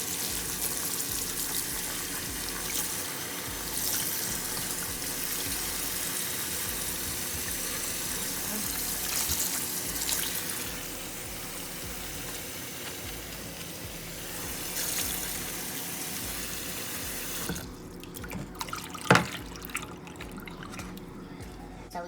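Hot tap water runs steadily into a kitchen sink as shrimp and cilantro are rinsed under it, a continuous splashing wash that stops near the end with a brief clatter.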